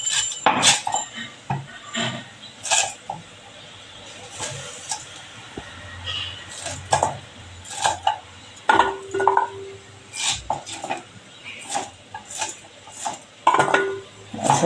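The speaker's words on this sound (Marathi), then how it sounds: "असा आंबा कापून घेणार आहोत" A knife cuts through raw green mango, peeled for a summer mango drink. Close, irregular sharp knocks and clinks of the blade on the board repeat throughout, with quiet gaps between the cuts.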